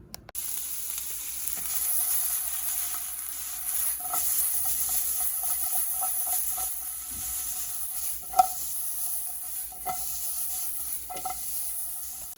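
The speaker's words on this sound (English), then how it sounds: "Cooking up some lunch, eggs and toast per usual." Eggs fry steadily in a pan for lunch, a continuous soft sizzle with a few light clicks and taps of utensils throughout, no talking.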